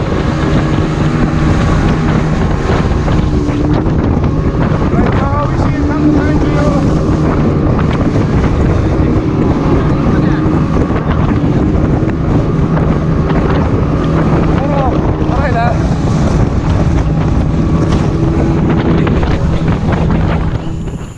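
A boat engine drones steadily beneath heavy wind buffeting and water noise on a boat ride, with faint voices mixed in.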